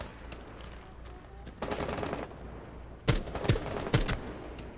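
Bursts of automatic gunfire ring out in a shooter video game, with a sustained rattling volley followed by several sharper, punchy shots, fairly loud over a low background.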